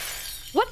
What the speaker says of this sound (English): That was just a weird shattering noise I was not anticipating